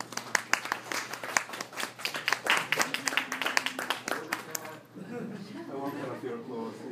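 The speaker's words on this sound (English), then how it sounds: "I won't cut off your applause." Scattered clapping from a lecture audience at an architecture school, fairly close and uneven, fading out after about five seconds as voices take over.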